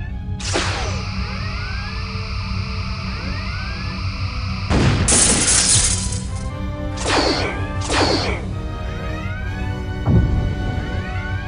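Spaceship weapons fire and explosions in a Star Trek fan film: sharp blasts and crashing bursts arrive in several separate volleys over a constant low hum, with chirping zaps woven between them.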